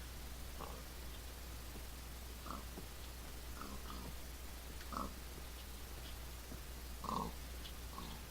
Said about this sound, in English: We do have some pigs.